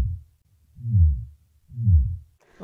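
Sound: worm grunting vibrations imitating a digging mole

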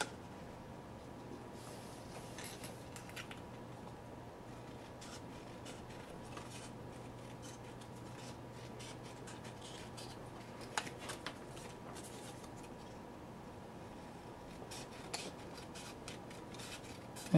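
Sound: scissors cutting out paper pieces

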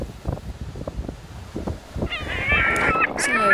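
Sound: seagulls calling

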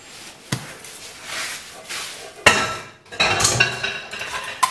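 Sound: bench scraper cutting sourdough pretzel dough

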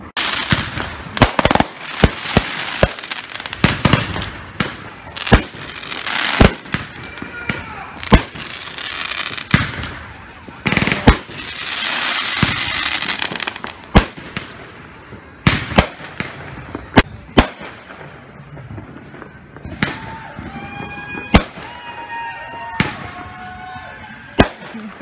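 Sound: fireworks exploding nearby

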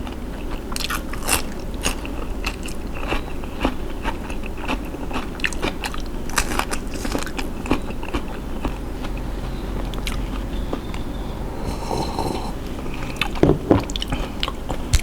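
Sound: biting and chewing shrimp fermented in fish sauce

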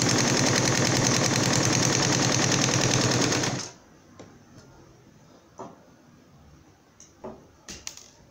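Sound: sewing machine stitching fabric

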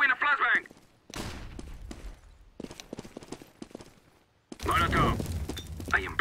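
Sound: flashbang grenade thrown in video game CS:GO

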